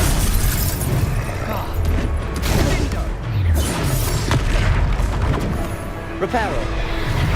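Repeated Confringo fire spells explode during a Hogwarts Legacy battle, loud booms and crackling blasts piling up over continuous dense combat noise.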